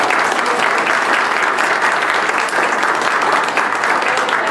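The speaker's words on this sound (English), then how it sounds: "I just would like for you to give him a round of applause for the great job" Sustained applause from a large crowd at a town hall meeting, dense and steady throughout with no voices standing out.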